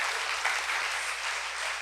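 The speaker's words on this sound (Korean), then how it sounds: "여러분 큰 박수 부탁드립니다." Audience applause at a Korean panel talk, a short burst of dense steady clapping heard from within the hall.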